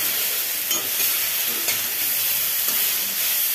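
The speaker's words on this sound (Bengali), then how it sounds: "এবার এটাকে একটু ভালো করে কষিয়ে নিতে হবে।" Vegetables sizzle in a pan with salt, turmeric, ground cumin, ginger and green chili paste. There is a steady bright hiss, broken by a few soft stirring scrapes.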